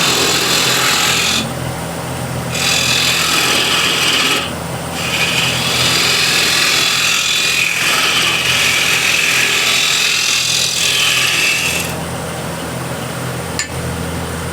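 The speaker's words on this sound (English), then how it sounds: "1/2-inch spindle gouge to create decoration here, and I do this by eye." A 1/2-inch spindle gouge cuts walnut on a lathe, giving a loud, continuous rough scraping whir that breaks off in short pauses as the tool lifts and re-engages.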